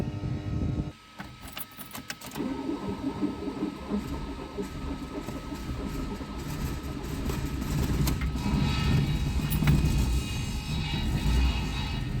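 A VAZ 2109's starter cranks hard on a weak battery, giving a continuous, labored mechanical whirring and grinding that grows louder toward the end, close by.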